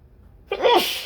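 A single sharp sneeze into a brown paper towel, close and loud, after a brief near-silent pause.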